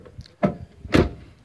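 The door of a 2007 Chevy Silverado pickup with a 4.8 engine opens in two quick mechanical clunks, close and moderately loud, with a faint rattle between them.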